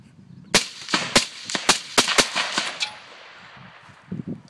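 A DPMS LR-308 rifle fires a rapid string of about eight loud, close gunshots, each a sharp broadband crack, followed by quieter handling noise and faint movement.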